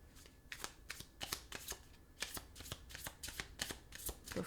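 Tarot cards being shuffled by hand in a quiet room: a rapid run of crisp riffling bursts, close and fairly soft, repeating in quick uneven strokes with no talking.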